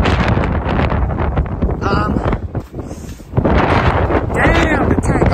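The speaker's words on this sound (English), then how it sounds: "it's been extremely windy" Strong, continuous wind roars and buffets the microphone for the whole stretch at a cabin-building site, dipping briefly midway before surging back loud.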